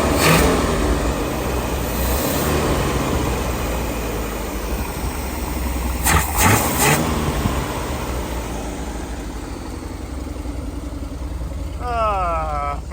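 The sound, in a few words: car engine started and revving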